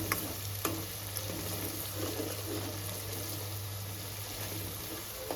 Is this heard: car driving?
no